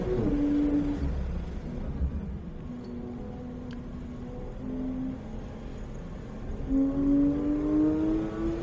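A race car engine drones and revs around the Spring Mountain circuit, a steady moderately loud tone that dips and climbs through gear changes and corners, heard from on board without pause.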